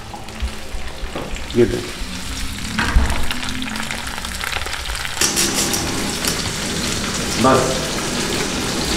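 Eggs frying in ghee in a pan: a steady close crackle and sizzle running throughout, with someone talking briefly over it.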